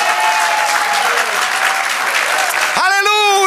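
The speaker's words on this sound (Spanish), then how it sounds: "Denle un aplauso." Church congregation applauding in a loud, dense burst of clapping during a Spanish-language sermon, ending with a sung or chanted voice rising over the tail of the applause.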